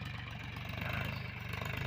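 A tractor engine idles nearby, a steady low rumble with an even, throbbing beat and no change in pace.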